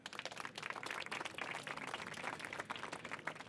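An audience applauds a speaker at a French panel talk on women and power, steady dense clapping throughout at a moderate distance, fairly faint.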